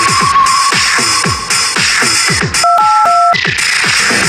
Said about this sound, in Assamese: দাদা ফোনটো দিয়কচোন মই ফোন এটা কৰি লওঁ